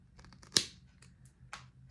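A Knipex forged wire stripper snips through wire with one sharp, close click, followed by a second softer snap, in an otherwise quiet room.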